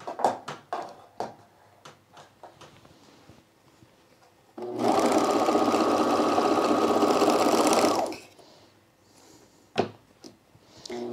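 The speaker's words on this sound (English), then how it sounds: "Just gonna overlock all these little short seams." An overlocker runs in one steady, loud burst of about three seconds while finishing short seams on an ironing board cover, framed by quiet clicks, handling noises and fabric shuffling before and after.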